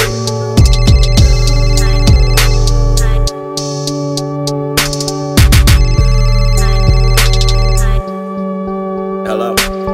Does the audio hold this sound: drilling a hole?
no